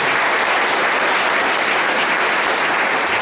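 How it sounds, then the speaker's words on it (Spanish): A church congregation at a Sunday service gives steady, sustained applause, a continuous wash of clapping with no talk over it. "Demos un fuerte aplauso a nuestro Señor Jesucristo."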